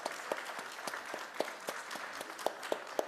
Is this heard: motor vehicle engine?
no